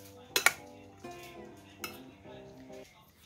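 Seaweed salad with onions being stirred in a bowl with a utensil, giving a few sharp clinks near the start followed by softer scraping and tapping, close and fairly quiet.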